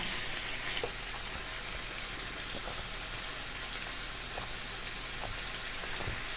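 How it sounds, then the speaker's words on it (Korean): Smoked duck fries in its own rendered fat, giving a steady close crackling sizzle with scattered sharp pops, and no voices over it. "이렇게 기름에 튀기듯이 구워야 더 맛있어"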